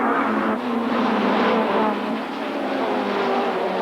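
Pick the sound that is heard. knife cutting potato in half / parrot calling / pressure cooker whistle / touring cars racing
touring cars racing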